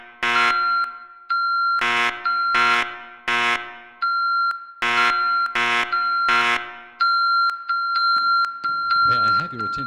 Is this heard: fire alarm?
yes